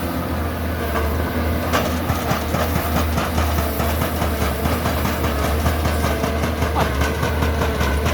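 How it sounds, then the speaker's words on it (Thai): Two Komatsu PC200 excavators, an older PC200-2 and a PC200-5, run their diesel engines side by side outdoors, giving a steady loud low rumble with a rhythmic mechanical clatter throughout and no talk. "ดูว่าเครื่องยนต์สู้กันครับ"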